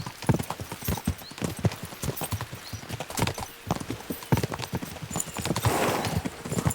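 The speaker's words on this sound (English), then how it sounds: "We should spur the horses on!" Horse hooves clip-clop in a steady, brisk rhythm throughout in the medieval game Kingdom Come: Deliverance II, close and fairly loud, with brief voices and a short whinny mixed in.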